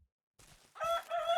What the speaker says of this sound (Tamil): விடிஞ்ச ஒன்று சேவல் கூவுது பாருங்க.